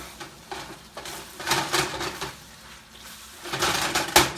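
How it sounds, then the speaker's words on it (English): Seasoned salmon, with salt, pepper and cayenne, stirred in a bowl, giving soft, irregular scraping and clinking bursts that swell and fade over a few seconds, close by and moderately loud. "And then I'm just stirring it up"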